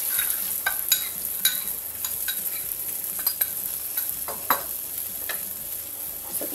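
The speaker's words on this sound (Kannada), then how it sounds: "ಲೈಟಾಗಿ ಮಿಕ್ಸ್ ಮಾಡ್ಕೊಳ್ಳಿ ಕ್ರೀಮನ್ನು." Corn cooked in butter and cream gets stirred in a pan, a soft continuous sizzle broken by repeated light scraping taps of the spoon against the pan, close and without talk.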